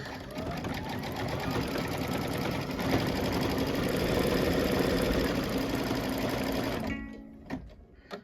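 Embroidery machine stitching a flagpole design on a Kimberbell quilt block, a rapid steady mechanical whir and needle chatter for several seconds before stopping abruptly into near quiet.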